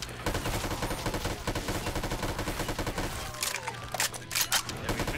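An automatic AK-44 in a zombies video game fires in rapid, loud, continuous bursts, then breaks into a few sharper, spaced shots toward the end, with no speech.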